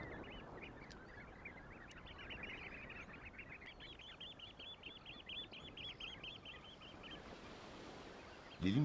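A crowd of birds feeding on the tidal flats of a coastal bay, including shorebirds such as oystercatchers and dunlins, keeps up a continuous rapid chatter of calls at mid distance, with no voices.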